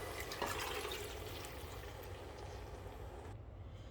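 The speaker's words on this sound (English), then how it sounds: "Now just put in or add in your chicken and add some water" Water poured into a pot holding chicken for Nigerian chicken curry sauce, a steady close splashing wash that runs for several seconds and then cuts off abruptly near the end.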